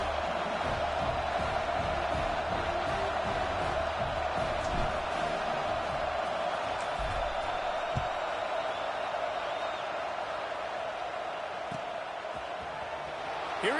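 Stadium crowd noise from a college football video game, Miami at Clemson, a steady broad roar with faint cheers and shouts running continuously at moderate loudness beneath the game ambience.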